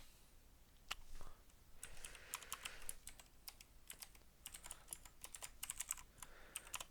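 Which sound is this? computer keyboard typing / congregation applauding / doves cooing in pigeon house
computer keyboard typing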